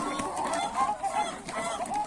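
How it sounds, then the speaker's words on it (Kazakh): Chickens clucking and vocalizing nearby on a cold night, a continuous overlapping chatter of calls with no clear gaps. "Тауықтардың дауысынан естисіз"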